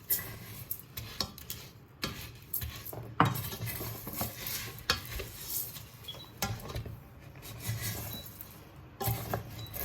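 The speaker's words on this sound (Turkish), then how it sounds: "3 çay bardağı arpa şehriyemizi kavuruyoruz" Small orzo grains rattle and scrape as a utensil stirs them in oil around a pot, toasting with a faint sizzle and irregular clinks close by.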